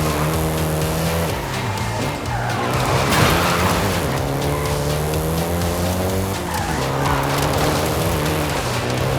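A Volkswagen Golf GTI in Forza Horizon 5 revs loudly through rising and falling engine notes, with tyres skidding and squealing in the middle as it slides, close and continuous.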